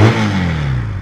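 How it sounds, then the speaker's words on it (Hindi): A motorbike engine revs hard and close at the start, then the pitch slides steadily downward as it winds back, loud and alone. "ये वो बाइक है। और आवाज सुनो इसकी"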